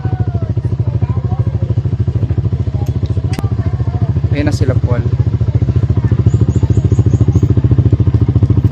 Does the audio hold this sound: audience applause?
no